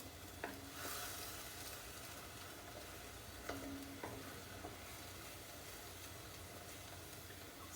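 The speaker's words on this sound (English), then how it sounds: "So we're just scraping up the bits." Browned bits are scraped up in a hot pan while braising beef ragu, giving a steady sizzle with a few sharp scrape strokes over a constant hissing bed, close and without talk.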